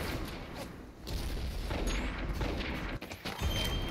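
Gunfire in the Avatar Star video game, a steady rattle of rapid shots and booms at moderate loudness with a sharp drop and burst near the end.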